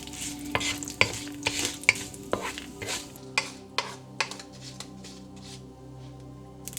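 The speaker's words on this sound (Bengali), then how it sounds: "এক চা চামচ পরিমাণ 5 ফোড়ন, 2টো তেজপাতা, একটি শুকনো মরিচ দিয়ে দিচ্ছি। তেলে সামান্য একটু ভেজে নিচ্ছি।" Bengali five-spice, two bay leaves and a dried red chilli frying in a little oil, a spoon stirring and tapping the pan in a quick series of knocks over a gentle sizzle that quiets toward the end, no talking.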